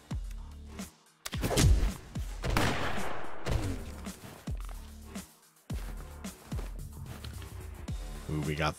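Gunshots ring out in the close-quarters video game Fights in Tight Spaces, several sharp bursts over about nine seconds mixed with game music and effects, fairly loud and up front.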